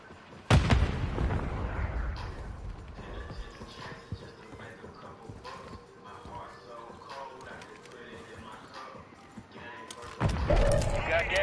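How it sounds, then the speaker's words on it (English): An explosion and gunfire in a military shooter video game: a sharp loud blast opens, followed by a steady din of combat noise, then another loud burst near the end, with voices talking over it. "Grenade out!"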